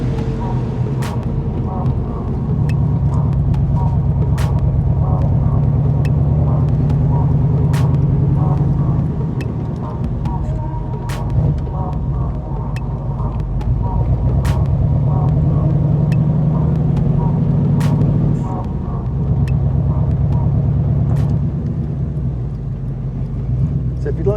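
A Chevy V8 powered 2005 Pilgrim Sumo Cobra Mk3 driving, heard as a loud, continuous low engine rumble from inside the car, with the tone rising and falling through gear changes and a voice talking over it.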